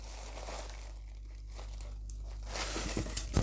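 Plastic bag crinkling and rustling at close range around a Star Trek model plaque, growing busier and louder toward the end, with no talking.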